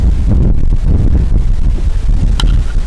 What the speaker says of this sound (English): So, I mean, I wouldn't doubt it with the wind like this. Yeah, it's very windy.